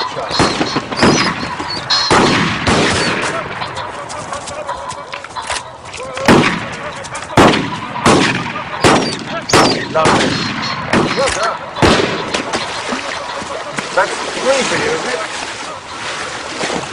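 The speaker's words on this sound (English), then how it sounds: "Good shot, Charles." Sharp gunshots at an outdoor shoot, fired one at a time, some close and loud and others fainter, with a steady windy or watery background between them.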